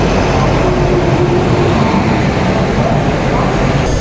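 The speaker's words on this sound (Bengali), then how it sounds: "দেখুন, আর একটা ট্রেন এসে ঢুকছে।" A Radhikapur–Howrah Express passenger train pulling into Rampurhat Junction in India, a loud continuous rumble of wheels and carriages filling the whole span.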